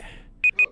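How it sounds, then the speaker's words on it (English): Three short, sharp electronic beeps from a 20-minute timer sound in quick succession after a brief stretch of quiet. "That was the timer, the 20-minute timer."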